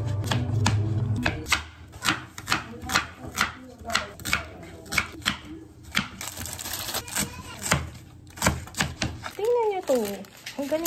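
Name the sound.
chopping tomatoes with a knife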